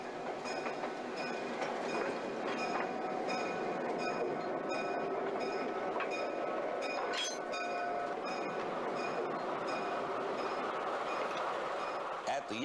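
Rail sounds from inside a railroad engine house stall at the Conway Scenic Railroad, a steady, continuous mechanical rumble and clatter with faint high squeals, heard throughout at a moderate distance.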